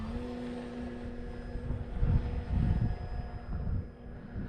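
Carbon Z T-28 radio-controlled model airplane flying slowly with landing flaps out, a steady propeller and motor drone at moderate distance that swells and fades slightly, with no talk.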